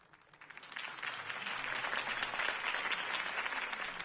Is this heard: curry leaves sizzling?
no